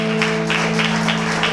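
Audience applause at a Christian conference event, dense steady clapping with rhythmic pulses, loud and close, over a sustained musical tone.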